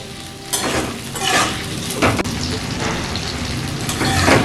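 Jujube plums being stirred in oil in a pan for pickle, giving a series of spoon scrapes and clatters against the pan at irregular intervals over a low steady background, fairly close, with no voices.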